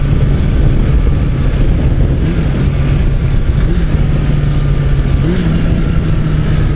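Suzuki GSX400F Katana motorcycle cruising steadily, its continuous engine drone holding loud and near, with slight pitch dips and rises as gears shift, no voices over it.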